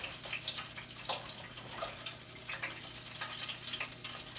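Peach pies frying in very hot oil, a quiet, steady bubbling sizzle with soft irregular crackles and pops throughout, no talking.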